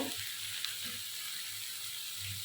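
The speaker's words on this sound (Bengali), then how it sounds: "তো তেলটা গরম হয়ে এসছে এখন এর মধ্যে আমি বেগুন আর আলুটা হালকা ভেজে নেব" Eggplant and potato pieces sizzle steadily in hot oil, a dense, even frying hiss with a faint clink near the start and no voices.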